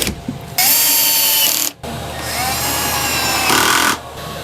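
A power drill bores pocket holes into a 1.5-inch board for a folding couch bed, whining loudly in two sustained bursts, the second longer, with a brief stop between them.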